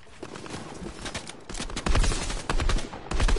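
Rapid gunfire in a video game played with friends, dense crackling bursts that grow louder partway through, close and continuous, with no talking.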